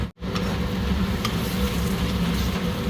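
Spice paste frying in a pan for an aloo and barbati seed curry, a continuous close sizzle with light scraping and stirring, steady in loudness after a brief cut at the start.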